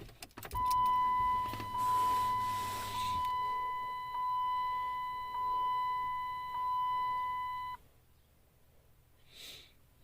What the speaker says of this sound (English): I'll go ahead and turn the car on for you.